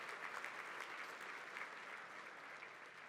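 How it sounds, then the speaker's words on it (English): Audience at an awards luncheon applauds nonprofit organizations, producing a continuous, even wash of many hands clapping that stays fairly distant and soft throughout. "a big round of applause for all of these wonderful not-for-profit"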